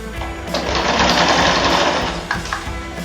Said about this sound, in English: This might be a little tough for your sewing machine depending on how thick it is